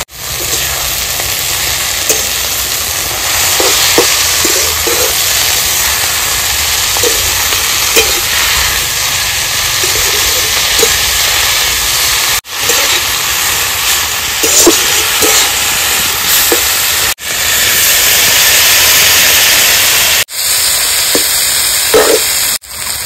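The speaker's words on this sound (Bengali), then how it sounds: "লাউ শাকটা ভাজা হয়ে গেছে।" Bottle gourd greens with salt and turmeric fry in a pan in a village kitchen, giving a loud, continuous sizzle with occasional stirring scrapes. Brief breaks in the hiss run throughout, and no one talks.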